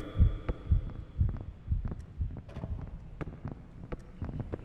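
Heartbeat in the Lunch Lady video game: a low, heavy thumping pulse repeating in a steady rhythm, loud and close over a faint hum, with no talk.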